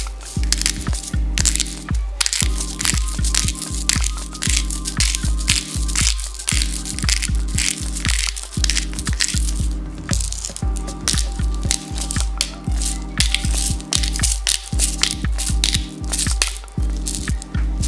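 Salt and pepper ground by hand onto a block of pork shoulder, a close, rhythmic crunching and crackling that repeats in short bursts for the whole stretch.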